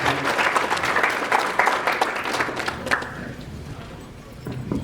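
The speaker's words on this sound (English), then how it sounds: "please stand up and just give them a round of applause" An audience at a furry convention closing ceremony breaks into a round of applause, loud dense clapping that gradually fades over a few seconds with scattered voices in the room.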